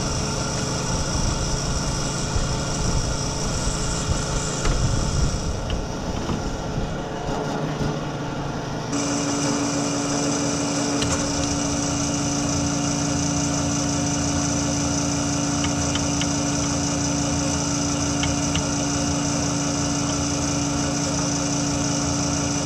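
A steady tractor engine rumbles continuously at close range, shifting to a higher, even drone partway through with a persistent hum.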